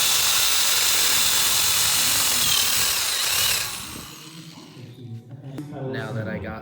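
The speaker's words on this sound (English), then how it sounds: "Getting the holes drilled out now for the fish tank and grow bed" A power tool drills holes for a fish tank and grow bed, heard as a loud continuous whirring hiss that stops partway through, after which quieter handling sounds and a voice follow.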